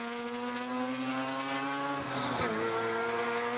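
A race car in a Sports Sedans race at Sandown, with a Mazda rotary engine mounted alongside the driver, screams past with a loud, sustained whine that dips sharply in pitch as it goes by.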